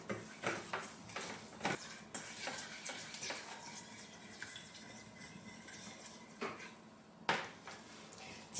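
Lemon juice being stirred into a clear thickener for a citrus cake, light scattered clinks of a utensil against a bowl with soft scraping, quiet and close, no voices.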